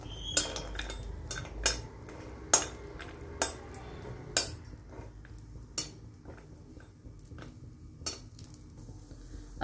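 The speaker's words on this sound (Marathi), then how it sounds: "आपण कढईमध्ये थोडंसं तूप टाकून घेतलंय, तर त्याच्यामध्ये हे बदाम आणि काजू आपण थोडेसे परतून घेऊ" Almonds and cashews stirred in ghee in a kadhai, a spoon or spatula clinking and scraping against the metal pan in irregular taps, close and fairly quiet, with no talk.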